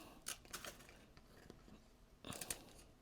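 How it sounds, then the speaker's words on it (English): Scissors snipping leaves off a houseplant during a winter plant reset, a few quiet crisp cuts in two small clusters, close and faint. "I'm gonna cut all the leaves off."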